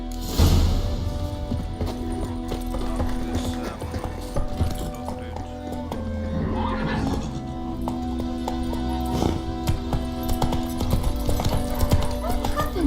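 A horse's hooves clip-clop steadily in The Witcher 3, a rhythmic run of clopping under game music and ambient sound, with occasional neighing and speech mixed in.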